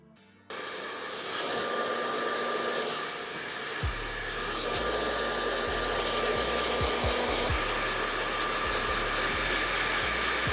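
Hair dryer fitted with a nozzle blowing hot air onto hair while it is pulled straight at the roots, a steady close whooshing roar running almost the whole time with low thumps and handling bumps in the second half.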